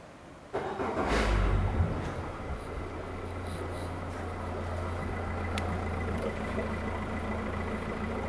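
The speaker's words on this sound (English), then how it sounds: "So we'll go ahead and fire this engine up here." A brand-new 2020 Yamaha 115 hp VMAX SHO 1.8L outboard boat motor catches with a sharp start, then settles into a steady, droning idle that runs on evenly.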